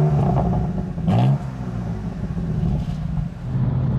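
BMW M4 Competition engine, warm, revving up in a sharp rising burst near one second, then settling into a steady rumbling idle with a second smaller blip, close and fairly loud.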